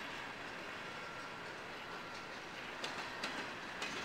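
A CSX freight train of NOKL twin stack intermodal cars rolls by at a steady, moderate distance, a continuous broadband rumble with a few faint rhythmic clicks of wheels over rail joints near the end.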